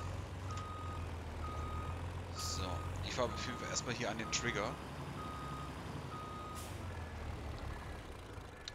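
Steady, evenly spaced reversing beeps come from a truck in Farming Simulator 22 over a constant engine drone, while someone talks in German partway through.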